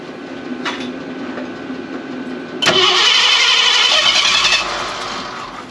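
A 1966 Ford F100 truck engine cranks briefly, then catches and runs loud and rough close by, settling to a steadier idle, with no talking.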